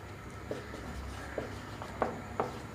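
Pen or chalk writing out a ratio and proportion math problem, faint scratchy strokes with a few soft taps over a low steady background hum, no talking.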